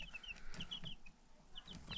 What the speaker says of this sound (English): 5 little bitty baby chickens.